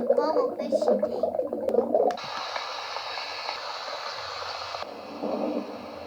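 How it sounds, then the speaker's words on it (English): A white noise sound machine with a night light plays a storm track, a steady rushing hiss that starts abruptly after a voice and continues evenly, easing briefly near the end. "Sounds like a storm."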